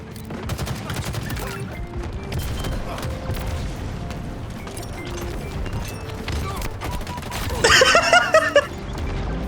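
A player's gun fires in a video game, rattling off dense rapid shots throughout with a sharper burst near the end, under a steady layer of game noise.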